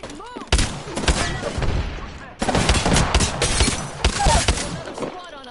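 Video game gunfire in heavy, rapid volleys, loud and close, broken by a brief pause before another sustained burst, with voices faintly in the mix.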